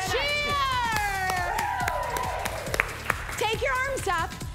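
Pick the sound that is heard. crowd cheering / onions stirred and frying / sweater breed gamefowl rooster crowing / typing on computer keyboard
crowd cheering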